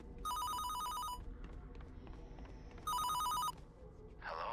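A telephone rings in a modern house in a Fortnite horror map, two bursts of bright electronic trilling separated by a pause, fairly loud and close, with faint background noise between rings.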